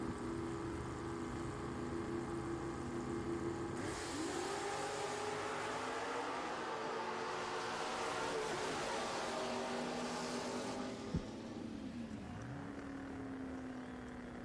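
Drag racing cars, among them a 72 Chevrolet Camaro, roar off the line at a dragstrip, a loud, sustained engine drone that surges and rises in pitch, with no voices over it.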